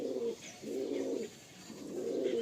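Pigeons coo in a loft in three low, rolling phrases separated by short pauses, close and fairly soft.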